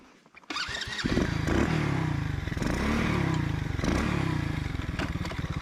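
Small engine of a homemade snow bike running on a cold sunny test ride, a steady close buzzing drone with rhythmic pulsing and slight rises in pitch, following a brief rattle at startup.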